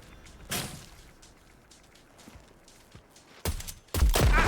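Shots fired at an antenna in Hooked On You, the Dead by Daylight dating sim: a quiet, scuffling stretch with a faint thump early on, then two loud, abrupt bursts near the end, the last one rough and sustained.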